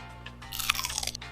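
Someone takes a big bite of Tom Yum Goong and chews it, giving a short, close, crunchy burst over a quiet background hum.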